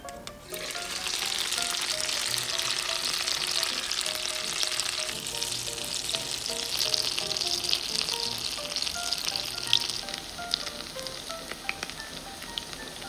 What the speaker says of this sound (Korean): 여러분 샤인머스켓 이렇게 버터에 구워왔고요